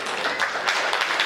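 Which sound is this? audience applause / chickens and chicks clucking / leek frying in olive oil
audience applause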